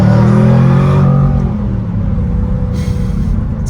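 A Jaguar F-Type R accelerating hard, its engine giving a loud, close, rising roar through the first second, then easing off into a deep rumbling drone and road noise.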